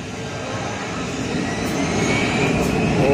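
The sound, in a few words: airplane taking off nearby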